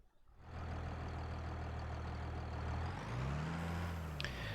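A heavy Massey Ferguson tractor engine in Farming Simulator 23 starts up and runs at a labored, steady drone, its pitch rising and wavering as it strains pulling a seeder.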